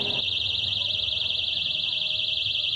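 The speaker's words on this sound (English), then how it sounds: "tied rape alarms to balloons and let them go, float to the top of a very, very high ceiling, and what a racket." Personal rape alarms tied to balloons floating up to a very high ceiling, shrieking in a loud, steady, warbling piercing tone that holds throughout, with a brief low rumble at the start.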